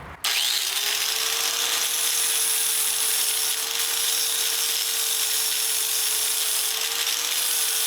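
An angle grinder fitted with a 40 grit disc grinds the snare beds on a drum shell, giving one loud, steady abrasive whine that runs unbroken after a short start.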